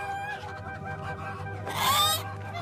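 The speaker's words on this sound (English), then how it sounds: "I need 6 of you fowl to take to market in the morning" Farm fowl being rounded up for market cluck and squawk faintly, with a brief louder squawk near the end, set against a steady low hum and no talking.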